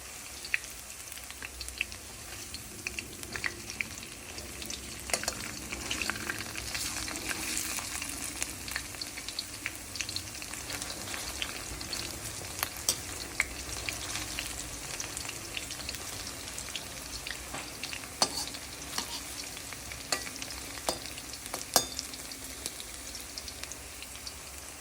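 Onion pakoda fry in hot oil with a steady, dense sizzle and scattered sharp crackles and pops, continuous and close throughout.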